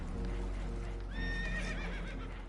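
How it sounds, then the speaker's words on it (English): Spooked horses in Red Dead Redemption 2 let out a loud, shrill whinny midway, over rumbling movement, hoof clatter and voices. "Horses are spooked"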